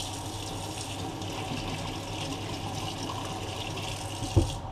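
Hot water runs steadily from a tap onto a brush being rinsed, a continuous close hiss of flowing water with a brief knock near the end.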